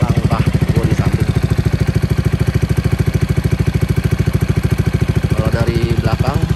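Close, loud idling touring motorcycle exhaust heard from one step to the side, with a steady rapid thumping pulse throughout; someone talks briefly over it at the start and end.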